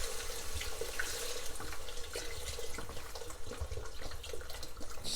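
Tap water pours steadily into a cooking pot for vegetable broth and rice, a continuous close hiss and splash with no talk.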